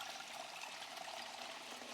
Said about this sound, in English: Fill water bottle.